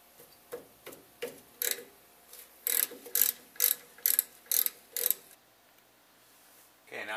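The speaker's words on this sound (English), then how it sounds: "I just need to take the ratchet. Undo the two bolts holding the wheel cylinder on." A ratchet is undoing the wheel cylinder bolts on a 1978 GMC C2500 truck, producing close, crisp clicking bursts in a quick, steady series of about a dozen strokes, then a pause.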